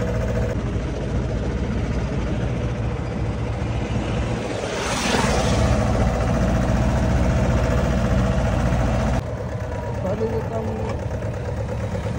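A tractor engine idles outdoors on a hillside: a steady, close droning rumble with rough wind-like noise runs throughout the clip, with a brief louder swell partway through.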